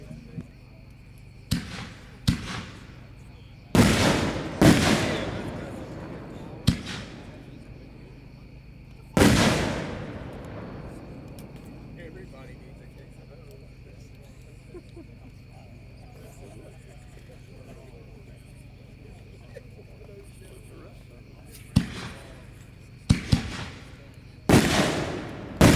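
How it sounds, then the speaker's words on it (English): Loud Hog Wild Killer Willow artillery firework shells burst in scattered clusters, sharp booms with crackling tails, a long pause of low rumbling ambience, then more rapid explosions near the end. "Number 10, more artillery shells, Killer Willow, Hog Wild brand"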